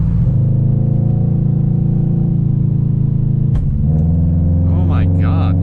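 A Subaru Legacy GT engine pulls hard in fourth gear, a loud, steady, close droning rumble that dips briefly before continuing, while a voice speaks over it near the end.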